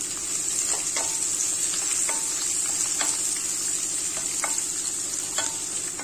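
Two large onions, sliced lengthwise, sizzle in hot oil for a vegetable biryani: a steady, even frying hiss with occasional sharp spatula taps against the pan, no voices.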